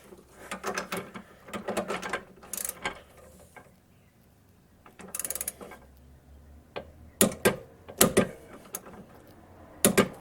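A torque wrench ratchets as it tightens an end link on a C5 Corvette, with irregular bursts of quick mechanical clicking separated by short pauses, close and fairly quiet.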